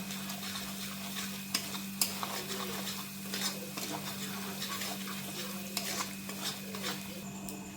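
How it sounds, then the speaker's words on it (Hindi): Spices with turmeric and Kashmiri red chilli powder roast in a pan while a spoon scrapes and stirs, giving soft sizzling and repeated clinks over a steady low hum, no talking. "अब इन मसालों को भी भून लेंगे। और इसमें ऐड करेंगे कश्मीरी लाल मिर्च का पाउडर कलर आने के लिए।"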